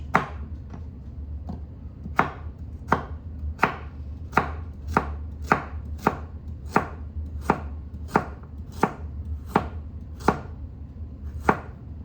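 Vegetables for an Ital stew are roughly chopped on a board, about fourteen crisp knife strikes at a steady unhurried pace, close and clear with no talking.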